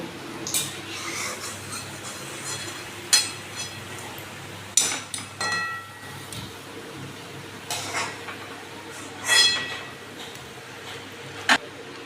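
Freshly fried jalebis are lifted out of the oil and dropped into sugar syrup, making sparse clinks of a metal utensil and soft wet plops. Each sound is spaced apart over a faint background hiss, and no one speaks.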